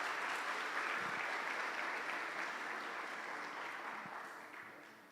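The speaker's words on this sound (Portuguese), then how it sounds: "Vamos aplaudir a Jesus pelas meninas" A church congregation applauds during a Sunday service, with sustained clapping that slowly fades toward the end and stays fairly distant and soft.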